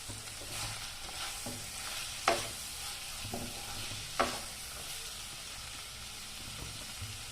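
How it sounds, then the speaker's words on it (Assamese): Chicken curry cooked with banana flower and garam masala is stirred in a frying pan, with a soft sizzle under scraping strokes and two sharper clanks of the utensil against the pan. The sound is fairly quiet and no one speaks. "দি মই আকৌ ভালদৰে লৰাই দিম।"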